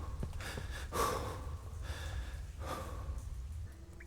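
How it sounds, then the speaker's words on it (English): Jack, the edgy lead character of a King Kong video game, breathes heavily as he walks through a museum: a run of rough, close inhales and exhales with gasp-like catches, alone without speech. "You can hear him breathing as he walks through the museum."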